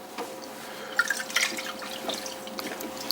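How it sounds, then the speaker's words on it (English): Water drips off a sponge on a pottery wheel while a tall clay vase is being smoothed, giving scattered small drips and splashes over a quiet background with a faint steady hum. "Just run the sponge up, get rid of all the excess water."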